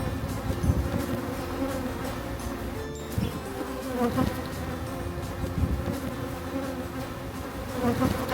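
A dense, steady buzzing of many honey bees close by at an open beehive, continuous for the whole stretch with slight swells in loudness.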